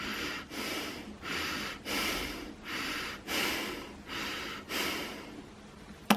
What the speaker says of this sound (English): I'll like breathe like this.